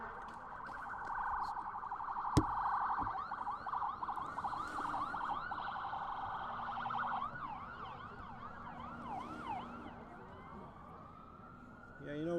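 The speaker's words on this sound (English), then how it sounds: "Oh, got an ambulance coming by." Ambulance siren passing on a nearby highway behind a junior varsity baseball field, a loud wailing and yelping siren that sweeps up and down, then fades into the distance.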